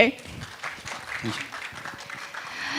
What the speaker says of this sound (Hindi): एक बार फिर से जोरदार तालियां हो जाए हमारे दुर्जे के लिए